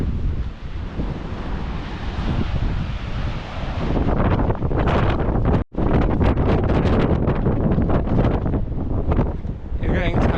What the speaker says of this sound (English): it's just too windy and I'm trying not to be blown around